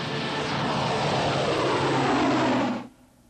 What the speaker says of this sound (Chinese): 这架编号3拐洞1的波音 737-800型行政专机属于中程高效能飞机